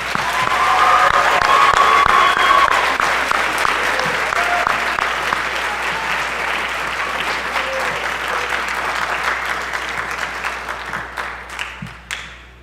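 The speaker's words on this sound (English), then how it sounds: "Give these students a round of applause." A high school band concert audience applauds the students, full steady clapping that starts loud and thins gradually toward the end, with a few scattered claps at the finish.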